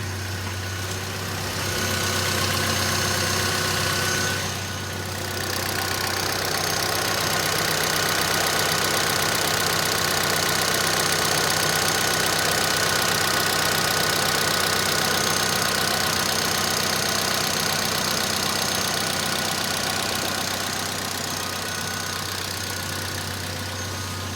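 A car engine idles steadily with a suspected rod knock, a loud, close, continuous low drone with a faint repetitive tapping and one brief dip in level early on.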